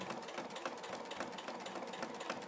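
A sewing machine runs steadily through a back stitch on a quilt's binding, its rapid needle ticking forming a continuous close mechanical whir throughout.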